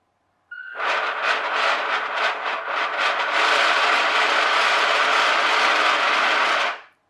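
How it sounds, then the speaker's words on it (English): A small motor driving a vibrating boat propulsion model starts abruptly, pulses in quick rhythmic bursts, then settles into a steady, close, buzzing whir for several seconds before stopping suddenly. "I'll try the motor in the opposite direction."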